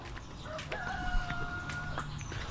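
A hen in a corner near a work truck clucks and crows in short, close, drawn-out calls over a quiet morning outdoor background, with no voices.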